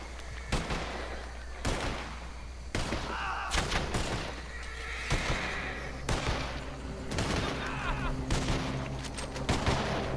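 Varmint rifle gunshots in Red Dead Redemption 2, a series of sharp, well-spaced cracks with echoing tails over game ambience, faint background activity between shots.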